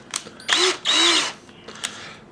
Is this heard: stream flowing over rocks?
no